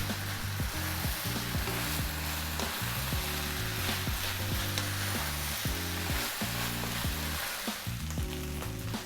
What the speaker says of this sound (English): That's your rice frying, that's where you want it.